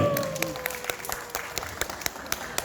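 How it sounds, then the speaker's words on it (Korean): An audience at the Yangyang mushroom festival concert claps in a steady rhythmic beat, sharp regular claps riding over a softer bed of crowd applause, with a brief voice at the start. "다시 한번 박수 부탁드릴게요"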